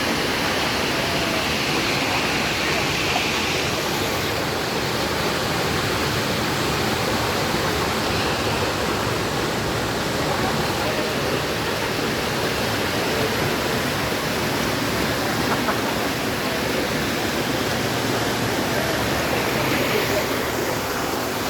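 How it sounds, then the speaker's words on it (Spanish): Water pouring like a waterfall into the Tava'i cenote in Caazapá, Paraguay, a loud, steady, broadband roar of falling water that holds evenly throughout with no other sounds. "donde va toda el agua y se cae como una cascada"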